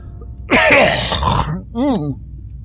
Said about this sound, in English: that was a cough I needed